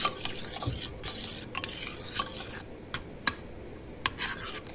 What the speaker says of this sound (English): just stir it all in